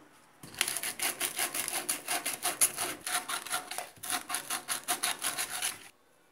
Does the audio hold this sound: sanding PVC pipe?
yes